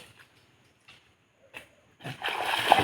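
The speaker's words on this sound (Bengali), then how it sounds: "ওই যে এই রিও, তো ঠিক আছে, ওরা চান টান করুক" Children bathing in water: soft scattered splashes sound at first, then close, louder continuous splashing builds over the final second.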